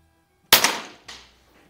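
A Feinwerkbau 65 or Beeman P3 10-meter target air pistol fires one sharp, loud crack outdoors at dusk, followed by a softer echoing second report that quickly fades.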